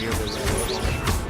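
In Hogwarts Legacy, an Incendio fire spell bursts in a dense, loud crackling blast with crashing impacts that stays steady throughout.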